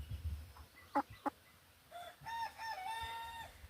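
Young giant Silkie chickens, a large-fowl Chinese Silkie cross, give a couple of short clucks, then a thin, wavering juvenile crow rises and trails off, close and fairly soft.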